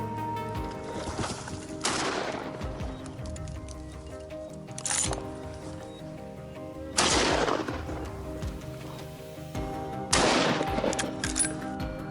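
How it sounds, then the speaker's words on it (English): Several sharp gunshots during a wild boar hunt near a boat, four loud cracks spaced a few seconds apart over a steady tonal background. "Without hesitation, a gunshot rang out, neutralizing the threat in an instant."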